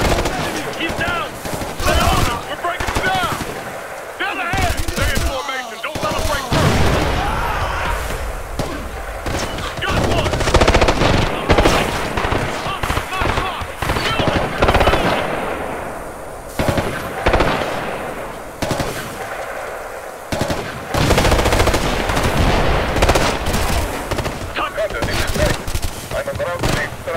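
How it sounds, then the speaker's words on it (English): Assault rifle fire in the video game Ghost Recon Future Soldier, with sustained loud automatic bursts and rattling gunfire running nearly nonstop, and voices shouting now and then over the battle. "Assault rifle!"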